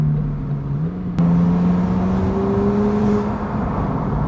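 McLaren sports car with an aftermarket full exhaust system, likely catalytic, idling then blipping the throttle, a steady low exhaust drone that steps up in pitch partway through with a fluttering edge, close and loud with no talking.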